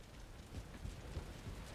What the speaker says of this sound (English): Raining again. That's the way that it goes. Every single day in Valheim.